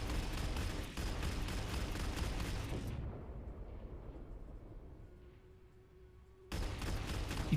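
Sci-fi gunfire and blasts in the VR shooter Rail Gunner, played on PC; dense rapid shots and booms fill the start, give way to a quieter lull with a faint tone, then return abruptly loud.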